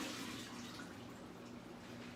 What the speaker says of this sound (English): So I just want to empty out the water